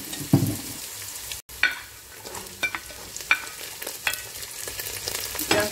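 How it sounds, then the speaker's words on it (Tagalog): Green chili tossed into a pan of frying onions sizzles steadily while a utensil stirs with sharp clinks and scrapes, close and fairly loud, with no voices. "ilalagay natin yung green chili"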